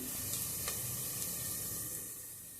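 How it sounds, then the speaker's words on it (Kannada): Onions fry in hot oil for prawn biryani, a continuous soft sizzle with faint stirring clicks and scrapes, steady and close, fading slightly near the end. "ಇವಾಗ ನಾನು ಒಂದು 2ರಿಂದ 3 ಈರುಳ್ಳಿನ ಹಾಕಿ ಚೆನ್ನಾಗಿ ಫ್ರೈ ಮಾಡ್ಕೊಳ್ತಾ ಇದ್ದೀನಿ."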